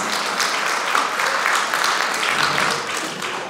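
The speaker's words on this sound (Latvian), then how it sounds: "Tāpēc aplausi dāmām un arī tam kungam." An audience applauds dancers, a group of ladies and one gentleman, at an anniversary folk-dance concert. Many hands clap in a full, even roar that stays strong before easing slightly at the end.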